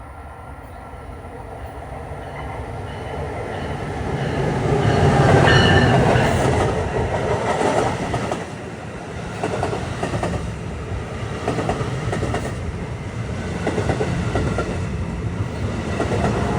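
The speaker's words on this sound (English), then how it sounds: "Trenton-bound transit arriving at 4:54." A Trenton-bound NJ Transit train arrives behind a locomotive, loud wheel clatter and rail rumble building to a peak around five seconds, then a steady rhythmic clickety-clack as the cars roll past close by.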